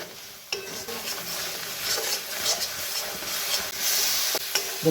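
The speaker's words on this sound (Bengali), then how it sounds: "ভালো করে মিক্স করে ভালো করে কষিয়ে নিতে হবে" Chopped tomato stirred into a frying masala for a green jackfruit kofta curry, with a steady sizzle under repeated scraping strokes of a spoon against the pan, close and moderately loud, no talking.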